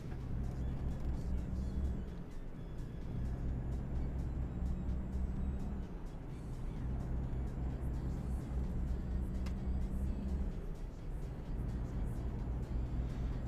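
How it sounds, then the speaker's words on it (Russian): Heavy road traffic in Euro Truck Simulator 2 near Kursk, a continuous low engine rumble with passing vehicles swelling and fading over several seconds. "Сразу трафик такой прям попер лютый, просто трафик."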